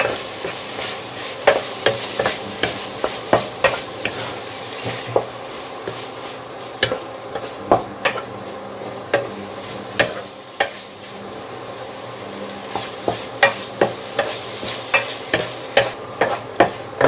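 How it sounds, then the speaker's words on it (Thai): Minced pork stir-fried in a pan for a southern Thai dry curry, with a constant sizzle broken by repeated sharp scrapes and clanks of the spatula in an uneven rhythm. "แล้วก็ผัดไปเรื่อย ๆ ก่อนนะครับ"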